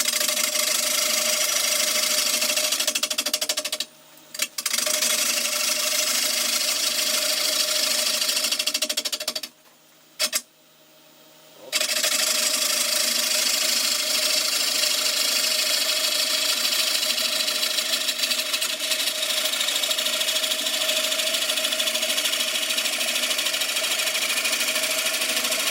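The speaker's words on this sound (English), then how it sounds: "just going to knock the corners off this wood, just with a rough and cut." A wood lathe roughing the corners off a wood blank while turning a tea light holder: a loud, continuous whirring drone with a steady tone, broken by two brief pauses, no talk.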